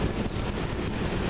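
Steady wind buffeting the microphone while riding a SYM Joymax 250i ABS scooter, a continuous broadband rush with low-end rumble filling the whole moment, with no voices.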